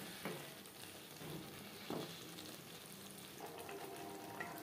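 Bhola fish and potato curry sizzling and frying in a pan over high to medium flame, a steady broadband hiss with a few brief scraping stirs, no one speaking.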